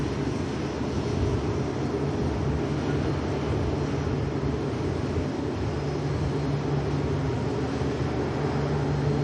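A Boeing 787 Dreamliner at Manchester Airport makes a continuous, moderately loud jet rumble with a steady low hum running beneath it, sustained evenly for several seconds with no voices.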